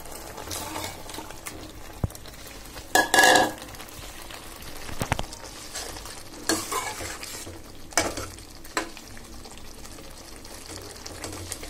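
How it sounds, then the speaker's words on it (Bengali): Fried rohu fish heads are dropped into sizzling spice masala in a pan and stirred, giving soft frying crackle with a few louder scraping stirs and clatters, close and alone without speech. "এবার আমি ভেজে রাখা মাছের মাথাগুলো দিয়ে দিচ্ছি।"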